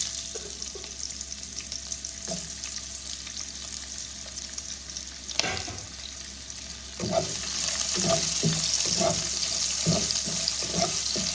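Onions fry in hot oil with panch phoron in a home kitchen, a steady sizzle with spoon scrapes and stirring clatter that grows louder and busier toward the end.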